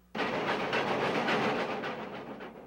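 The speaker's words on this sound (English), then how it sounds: "The steam engines have to work for a living now. These are the steepest grades on the line." Steam locomotive of the Grand Canyon Railway working hard up one of the steepest grades on the line, a loud steady roar of exhaust and rolling wagons that starts abruptly and continues without talk.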